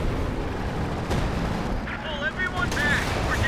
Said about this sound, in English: that's major artillery